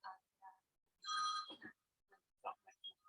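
A mobile phone rings during a house meeting, a faint electronic ringtone of tonal chimes heard once at moderate length amid scattered quiet sounds.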